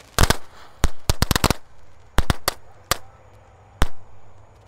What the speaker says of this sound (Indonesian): yang kita nyalakan di sini ada mercon tank.